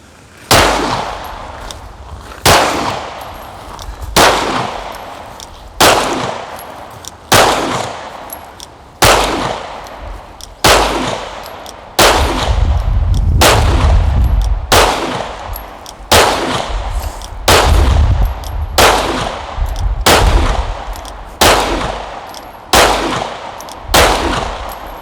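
Pistol shots fired one at a time on an outdoor shooting range during a tactical pistol course, about sixteen sharp loud cracks spaced roughly a second and a half apart, steady and unhurried, with a low rumble of wind in the middle stretch.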